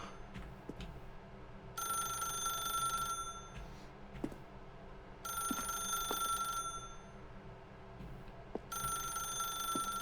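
A telephone rings in The Stanley Parable video game: three long electronic ring bursts with pauses between them, at a moderate distance over a quiet room ambience.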